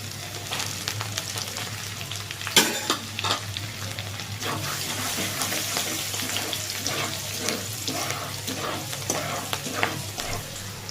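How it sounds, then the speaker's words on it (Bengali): Garlic and green chillies fry in hot oil for a home-made chicken chow mein, a steady close sizzle running throughout with scraping stirs and a sharp clatter early on, no voices. "এবার আমি রসুনটা প্রথমে তেলের মধ্যে দিয়ে দেবো রসুনটা লাল করে ভেজে নেব আর দিয়ে দিচ্ছি কাঁচা লঙ্কা"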